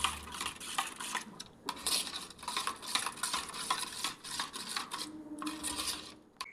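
Chicken being mixed into yogurt in a bowl, close wet squelching and clicking stirs in an irregular rhythm, with a soft sizzle in the background and no talking.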